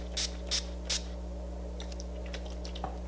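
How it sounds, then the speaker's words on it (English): Three quick hissing spritzes of a makeup setting spray bottle onto a face in a steady rhythm, close by, followed by faint soft rustling over a low background hum. "you're gonna spray it a few times"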